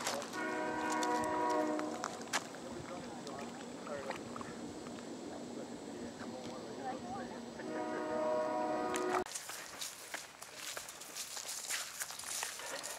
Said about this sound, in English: Train in the background here at the Shawnee Mission Park Lake.